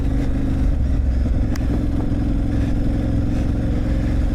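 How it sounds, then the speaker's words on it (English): A motorcycle runs off-road along a chalk byway green lane in south Dorset, its mid-pitched engine droning steadily up close with a constant low rumble and no speech. "It's been a while since I've ridden this bike, and particularly off-road"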